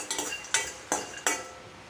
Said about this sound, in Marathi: मी थोडे शेंगदाणे आणि जिरे आहे ना थोडे भाजून घेत आहे